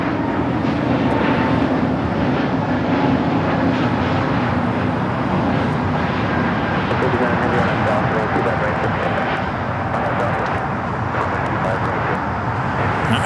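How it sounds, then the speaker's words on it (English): A Frontier Airbus A320neo takes off at LAX with a loud, continuous jet engine roar that holds steady throughout, while voices talk over it. "This Frontier 1062 taking off to Phoenix on the A320 Neo"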